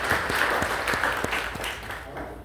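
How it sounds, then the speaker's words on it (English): Applause from the audience at a town hall meeting in Heritage Hall for the city engineering director, a short burst of steady clapping from a modest crowd that gradually fades out. "Can we get him a round of applause as well?"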